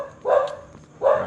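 A dog nearby gives two short, sharp barks about a second apart over faint outdoor background noise.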